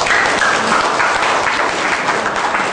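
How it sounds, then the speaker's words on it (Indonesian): An audience at an integrity outreach meeting breaks into dense, sustained clapping, loud and even throughout, with no pauses and no speech over it. "Coba, saya minta tepuk tangan, Pak."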